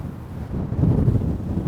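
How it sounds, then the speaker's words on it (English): Strong wind buffets a microphone on a street in New York City's Meatpacking District, producing a steady, loud low rumble that swells midway and carries on to the end. "Oh man, it's windy."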